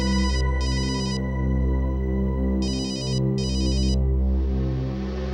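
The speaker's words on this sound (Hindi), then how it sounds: "किसका फोन है" A phone ringtone plays loud and close in repeated electronic bursts over a steady musical background, with no talking.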